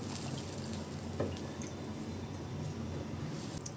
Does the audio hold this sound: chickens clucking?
no